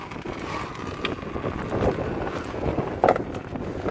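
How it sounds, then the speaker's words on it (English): Steady low rumble of Midwest wind buffeting a microphone outdoors during a coolant flush on a 2012 Honda Accord, continuous throughout with a few louder gusts and bumps, no talking. "it's so damn windy here in Midwest"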